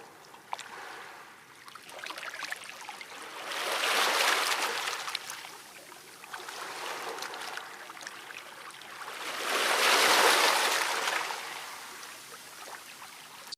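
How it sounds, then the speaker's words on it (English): Soft swamp water trickles and flows in gentle rising and falling surges, two stronger whooshing swells standing out over a faint, continuous background of dripping. "Water drips from twisted roots above, landing on your shoulders, your face,"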